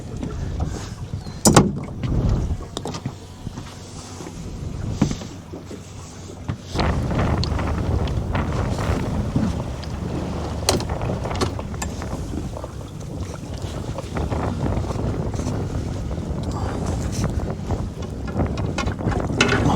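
Strong gusty wind buffets the microphone outdoors on the water during a crawfish and crab trip, a steady roaring rumble with sharp bursts, no speech.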